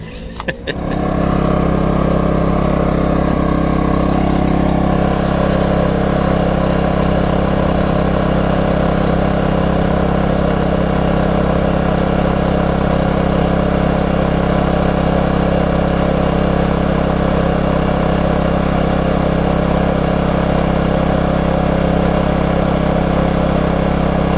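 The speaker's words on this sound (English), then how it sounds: "we're gonna get it started back up here and probably just let it idle for a while" A Genmax portable generator, once found full of water, starts and then idles at a steady, loud drone with a constant low hum and mechanical buzz, close by and uninterrupted.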